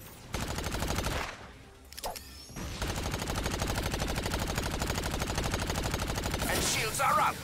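Rapid sustained gunfire in the shooter game Agents of Mayhem, loud automatic bursts nearly continuous with a brief pause, ending in a bright explosive burst; no talking.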